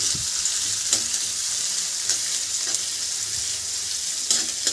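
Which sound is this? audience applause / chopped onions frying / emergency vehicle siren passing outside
chopped onions frying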